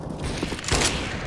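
Gunshots in a competitive esports shooter match during a live online invitational, a dense clatter of game fire with a sharper crack partway through, no talk over it.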